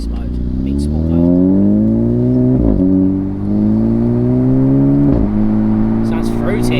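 A Renault Megane RS Trophy fitted with a full exhaust system revs in race mode, a loud, close engine note climbing steadily with two brief gear-shift breaks, alone without talk.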